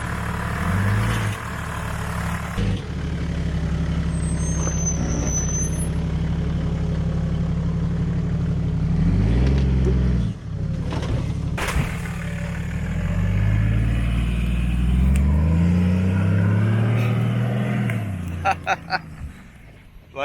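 A modified 4WD on 35-inch tires crawls over a fallen tree, its heavy engine idling and revving in slow swells that rise and fall in pitch, loud and close, with a few knocks and scrapes near the end.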